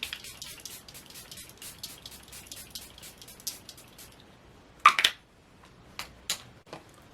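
Soft hissing mists of a Charlotte Tilbury Airbrush Flawless setting spray applied to a face, a few quick pumps close by, with small clicks and rustles in a quiet room.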